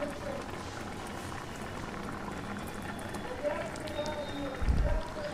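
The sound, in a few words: water being mixed into boiling dal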